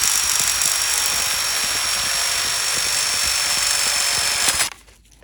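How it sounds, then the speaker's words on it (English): A jigsaw cuts through an aluminium panel for a Honda Element micro camper base, a loud, steady buzzing rasp with fast blade chatter that runs for several seconds and then stops abruptly. "And this has to be cut with the jigsaw because it's aluminum."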